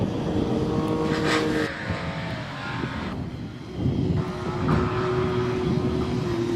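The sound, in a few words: KTM Duke motorbike starting hill climb run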